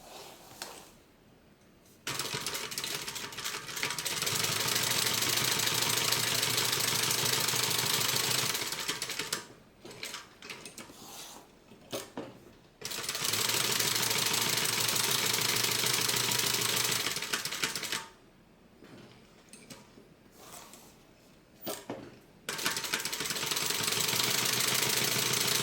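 A sewing machine stitches a tote bag in three long, steady whirring runs, close and fairly loud, separated by short pauses filled with quieter clicks and handling.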